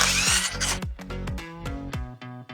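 Cordless drill chuck spinning open to release the drill bit, a rapid series of sharp ratcheting clicks over a whirring motor, close and fairly loud, slowing as it finishes.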